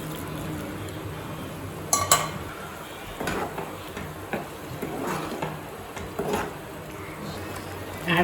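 Boiled pasta tipped into a pan of red sauce on the stove, soft clinks and scrapes of utensils against the pan with a light wet shuffle, fairly quiet.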